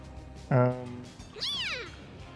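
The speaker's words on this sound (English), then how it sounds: "Meow." Cartoonish cat meows from the video game Mewgenics 2, two separate calls, a short harmonic mew then a rising-falling one, heard clearly over faint game background.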